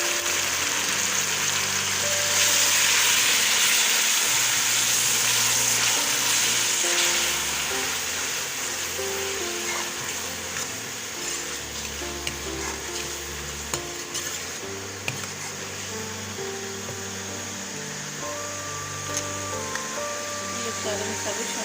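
Tomato paste sizzles and spatters in a hot pan for Indian-style aloo matar, a steady broadband hiss with occasional stirring scrapes and clinks, while music plays underneath throughout.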